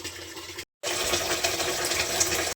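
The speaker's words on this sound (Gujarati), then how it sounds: "એટલે દાંટો કાઢી નાખી એટલે તરત આમાં પાણી વહી આવે" Water gushes from a pipe into an empty container on a farm, a loud steady rushing flow close by that drops out briefly before resuming.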